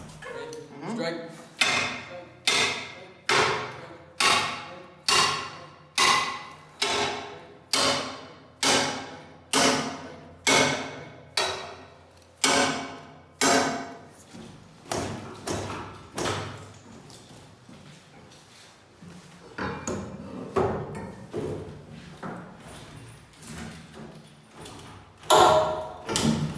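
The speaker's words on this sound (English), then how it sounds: "we're going to do a slowed down version of an irons forcible entry. That includes a Halligan bar and a flat-headed axe." A flat-headed axe hammers a Halligan bar during forcible entry on a locked door, a long series of sharp, evenly spaced metallic strikes, loud and close, slowing with a pause before further blows, with voices talking in between.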